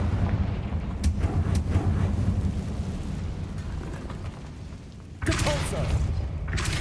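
Spell blasts in the Hogwarts Legacy video game: dense rumbling booms and crackling impacts fill the clip, with a fresh loud burst late on, under a steady bed of game noise.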